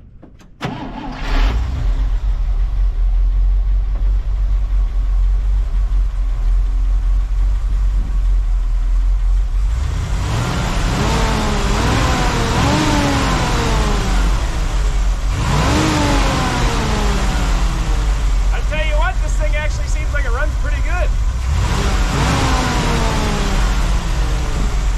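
An International Loadstar truck, a $500 rig that sat unused for over twenty years, idles roughly before its engine runs up through several loud, rising revs with gear-like sweeps, a steady close rumble throughout and no talk.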